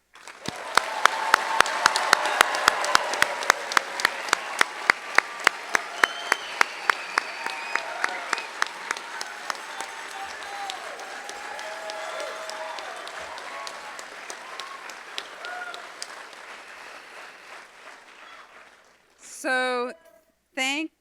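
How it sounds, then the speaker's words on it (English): Sustained applause from a large audience at a 2022 university graduate hooding and commencement ceremony, dense clapping that stays loud for most of the stretch before tapering off, with a few brief sounds at the end. "I think we should give one last round of applause for our graduating CWU graduate students for"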